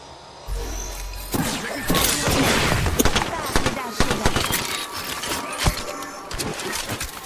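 Gunfire in the Apex Legends video game: a loud run of rapid shots and bursts rattles close by, with sharp cracks and mechanical clatter between volleys.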